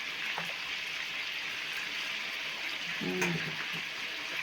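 Chicken legs sizzle in a crowded frying pan while being turned over, a steady soft hiss of frying with a brief clatter of handling partway through.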